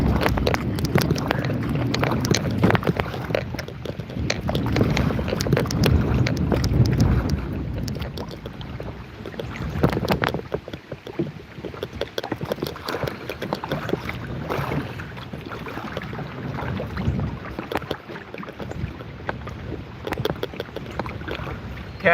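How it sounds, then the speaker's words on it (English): Gusty wind buffeting the microphone on a river during a folding kayak outing, a loud continuous rushing roar that swells and eases throughout, with faint water and paddling sounds beneath and no talking. "Can't let the wind get us off track."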